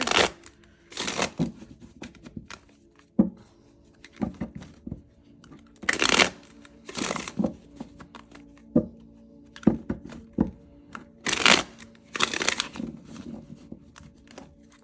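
An astrology card deck being shuffled, with repeated bursts of riffling and flicking cards separated by brief pauses and soft thumps, close and clear with no talking.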